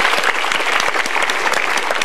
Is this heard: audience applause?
yes